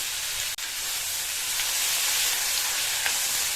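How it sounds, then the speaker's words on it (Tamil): Chopped tomatoes sautéing in a pan for chutney, a continuous bright sizzle and hiss with a brief click near the start and faint stirring scrapes. "தக்காளியை சேர்த்து லேசாக வதக்கி விட்டுட்டு"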